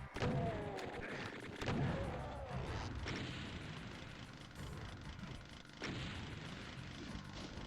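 Rapid gunfire from chaingunners in Doom II on Ultra Violence, with booming bursts and game clatter mixed together at steady loudness for several seconds, under a speaking voice.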